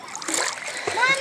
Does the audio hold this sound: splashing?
yes